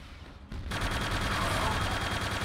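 Gunfire in the shooter game Quake II: dense, sustained bursts of weapon fire that start abruptly after a brief quieter moment and continue loud and steady to the end.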